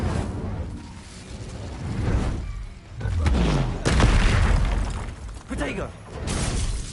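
Incendio fire spell cast in Hogwarts Legacy amid combat, with surging whooshing fire and booming blasts that swell and fade in waves, loud and close, mixed with other spell effects.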